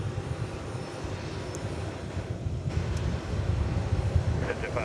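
A distant airplane landing at Dallas Love Field, on the east side of the field, with a steady engine rumble that swells toward the end over outdoor wind noise.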